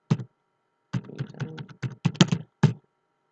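Keys on a computer keyboard are tapped in two short bursts, a brief stroke, a pause, then a quick run of clicks, close and distinct against silence while a password is entered during an Arch Linux install.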